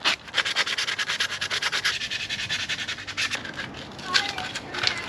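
Light scuff-sanding of a Honda Civic door handle from the 1992–1995 era with 120 grit sandpaper, a rapid rhythmic rasping of close strokes running steadily throughout.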